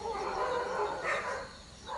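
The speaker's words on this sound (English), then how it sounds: "my dog's seen something they don't like." A dog barks and yips indoors in a short, moderately loud burst with no talk over it.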